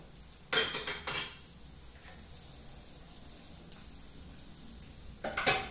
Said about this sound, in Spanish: Vamos a mezclar todos los ingredientes.